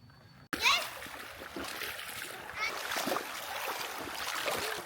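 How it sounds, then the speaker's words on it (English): Feet splash and slosh in shallow river water along a state park trail, an abrupt splash followed by continuous churning water, close by, with voices talking over it. "We just want to wash off our feet in the river."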